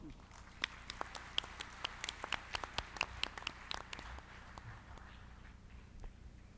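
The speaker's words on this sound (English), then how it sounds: "Please welcome him with a big round of applause" Audience at a keynote and roundtable session giving a round of applause to welcome the moderator, heard as sparse, distinct hand claps at moderate distance that thin out and fade after a few seconds over a low room hum.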